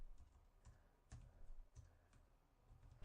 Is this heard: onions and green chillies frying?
no